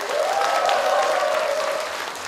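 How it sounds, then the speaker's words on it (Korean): Party convention delegates applaud at a leadership election rally, a dense, steady wash of clapping filling the hall for a couple of seconds with a faint hum of voices underneath. "대의원 동지 여러분들과의 의지를 모으는 박수 한번 보내주실 것을 제안드립니다"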